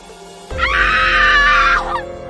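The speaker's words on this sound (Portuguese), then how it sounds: "O primeiro grito foi o de Ana, o segundo foi o de Léo" A woman's scream for an audio drama, a single sustained shriek of about a second and a quarter that rises sharply, holds loud and strained, then cuts off, with a low rumbling bed underneath.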